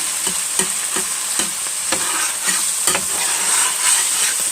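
Ground beef fries in a pan for homemade spaghetti and is stirred with a utensil, making a steady loud sizzle punctuated by regular scraping strokes about every half second, close by and without talk.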